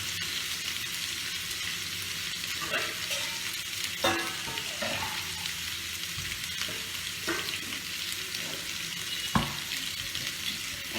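Pabda fish sautéing in hot oil, a continuous close sizzle and fry with occasional stirring clinks and scrapes, no voices.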